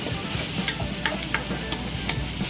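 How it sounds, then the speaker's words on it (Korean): Chopped onion, sliced garlic, bacon, mushroom and celery sautéing in olive oil, a dense steady sizzle broken by sharp, regularly spaced scrapes and taps of a utensil against the pan, close up, with no voices. "다진 그 잘게 썰은 양파와 그 다음에 편마늘, 그 다음에 베이컨, 그 다음에 버섯, 그 다음에 샐러리 이렇게 넣고 볶아 올리브 오일에"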